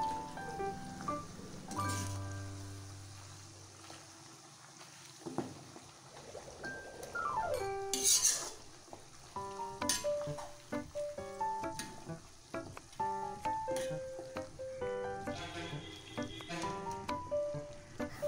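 Homemade herbal hair oil sizzles and bubbles steadily in a pan while a utensil scrapes and clinks against the metal at intervals.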